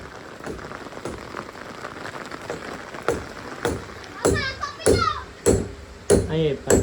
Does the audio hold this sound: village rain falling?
yes